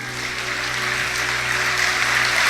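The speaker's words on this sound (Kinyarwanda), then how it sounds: "tuyongera amashyi" Applause from a church congregation during a sermon, a dense steady clapping that swells slightly, heard alone over a low background hum.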